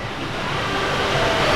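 Water pouring down the flume of a stopped log ride at Knott's Berry Farm, a steady broadband rush that holds fairly loud and even throughout with no talk over it.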